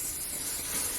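Aussie Sleek dry conditioner sprays steadily from an aerosol can, a continuous close, bright hiss with no break.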